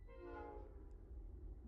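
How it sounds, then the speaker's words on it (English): A train passes some distance away, its horn sounding a sustained harmonic blast that swells and fades within a couple of seconds over a low steady rumble. "Apologies for the train that's about to go through."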